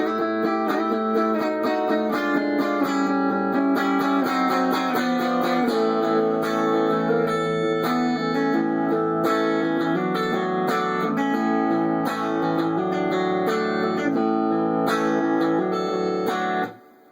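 Electric guitar plays a riff, a bluesy repeating figure of clear plucked notes and chords, close and alone, ending abruptly.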